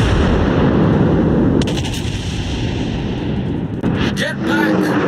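Naval guns firing during a World of Warships battle, a dense run of booming shots and rumbling blasts that crowd most of the stretch, with short sharp reports near the end.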